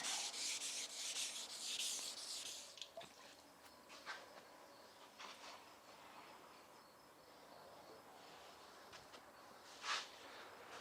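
Wet sanding of a marble tile bullnose with sandpaper, a faint, continuous scraping rub with soft wet drips, quiet and close throughout.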